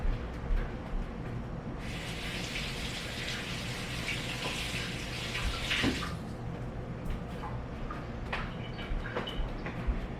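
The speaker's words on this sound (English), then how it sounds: "I want to quickly wash my hands." Tap water runs while hands are washed in a home kitchen, a steady hissing gush for several seconds in the middle that then cuts off, followed by faint clatter.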